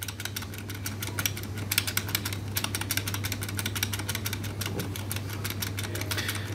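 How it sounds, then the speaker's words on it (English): The F2 key on an HP laptop keyboard is tapped rapidly and repeatedly during a restart. The clicks come in a fast, steady stream over a constant low electrical hum, close and moderately loud. "We're going to spam F2."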